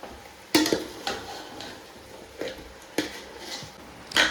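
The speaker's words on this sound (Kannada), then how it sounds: "ಚಿಕನ್ ಹಾಕಿದ್ಮೇಲೆ ಅದು ಸ್ವಲ್ಪ ಸ್ಪೂನಲ್ಲಿ ಇದನ್ನು ಮಾಡ್ಕೋಬೇಕು, ತಿರ್ವಾಕೋಬೇಕು" A spoon scrapes and knocks against a pan while chicken is stirred for a chicken gravy, giving about seven separate clinks and scrapes spaced irregularly over a quiet background.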